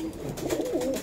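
Pigeons cooing at close range, a short soft throaty coo from Sialkoti pigeons on sale.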